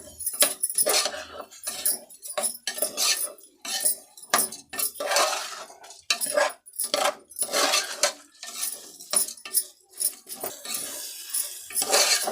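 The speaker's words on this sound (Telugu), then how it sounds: "ఇప్పుడు బియ్యం కూడా బాగా ఫ్రై అయ్యింది" Rice for a black-eyed pea biryani is fried and stirred in a pot, with repeated quick metallic scrapes of a spoon against the pan in an irregular, busy rhythm.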